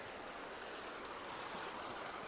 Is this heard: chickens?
no